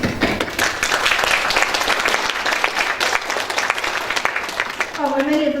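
An audience applauds steadily, a dense wash of clapping throughout at a talk on Bell's palsy in pregnancy, with a voice breaking in near the end.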